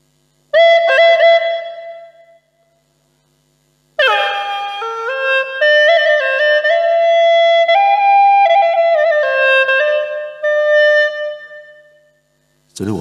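Hulusi cucurbit flute played solo, a reedy, buzzing melody with sustained notes: a short opening phrase, a pause, then a longer flowing line with held tones, loud and close.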